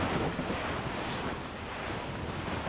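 Ocean waves and wind rush steadily across open sea in the video game Assassin's Creed Rogue. The wash is broad and continuous, with no voices and no breaks, and its loudness barely changes throughout.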